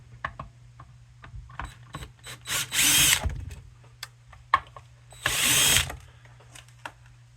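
A power drill backs screws out of a power inverter's metal casing in two loud whirring bursts of about half a second each, between quieter clicks and handling clatter on a workbench.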